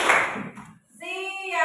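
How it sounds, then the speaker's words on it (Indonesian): Children in a classroom concentration game clap in response to a teacher's call, a short burst of clapping up front, then a brief pause followed by a voice speaking. "Kalau Ibu katakan pagi, kamu tepuknya 1."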